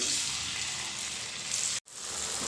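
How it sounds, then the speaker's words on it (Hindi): Biscuits made from poha and potato frying in a pan over a high flame, giving a steady, loud, close sizzle that runs continuously with one brief break near the end. "चलिए सेम तरीके से हम बाकी के सारे बिस्किट को फ्राई कर लेंगे"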